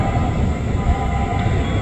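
A KRL commuter electric train rumbles steadily at Universitas Indonesia station, a continuous close, moderately loud rolling sound with no voices.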